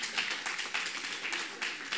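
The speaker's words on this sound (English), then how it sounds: "give yourself a round of applause for being so patient." A small audience at a talk on science and creation claps briefly, a quick, somewhat sparse patter of hands with distinct individual claps, fairly quiet and close.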